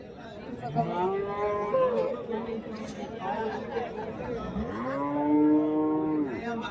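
Jersey calves and cattle at a livestock market moo repeatedly, with long drawn-out calls rising over steady crowd chatter and nearby voices talking throughout.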